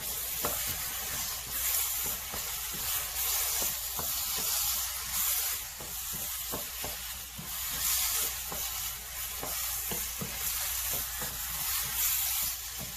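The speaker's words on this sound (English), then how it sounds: "let this saute a little longer" Jeow padek pepper paste sautés in a pan with a steady, moderate sizzle and hiss. Faint stirring scrapes come and go through it, and no one speaks.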